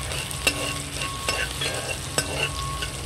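Pepper, pimento, onion and chive fry in hot oil with a steady close sizzle, broken by a few sharp clinks and stirring knocks of a utensil in the pan.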